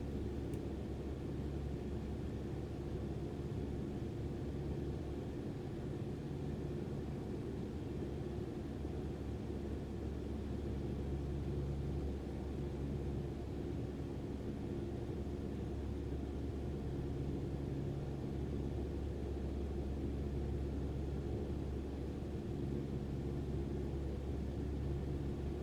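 A flight simulator game airplane glides in to land on a night approach, a steady low engine and wind rumble with faint hiss holding unchanged throughout, with no voices.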